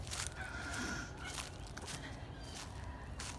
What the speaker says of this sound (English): chickens here. These are called Rhode Island Whites.